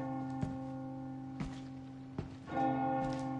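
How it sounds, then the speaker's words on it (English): A church bell in the Resident Evil 4 Remake video game tolls four times at steady intervals, each strike ringing out with a long sustained hum that overlaps the next. "I could literally just shoot the bell myself"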